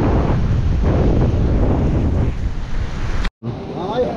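Rough surf pounds a beach where the sea is too choppy for lifeguards to allow swimming, a loud continuous roar with wind buffeting the microphone and a brief dropout near the end.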